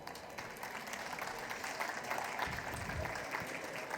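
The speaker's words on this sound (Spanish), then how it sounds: "Un aplauso para ella." Audience applause at a Spanish-language talk on sexual harassment, a steady wash of clapping from a room of listeners that holds for the full stretch, moderately loud and even, with no voices standing out.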